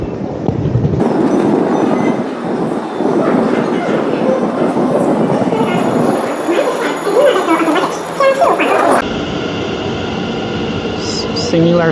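A Taoyuan MRT subway train rumbles and clatters steadily from inside the carriage, loud and continuous, with a high whine over the ride before the noise drops to a quieter hum as the train slows near the end.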